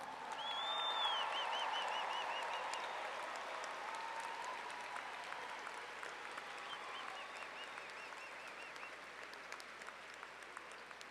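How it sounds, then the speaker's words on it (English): Sustained, loud applause from a large audience honoring the newest Trulaske College of Business graduates at a spring 2026 commencement ceremony, with a few whistles over the clapping for about eleven seconds. "giving them one more round of applause"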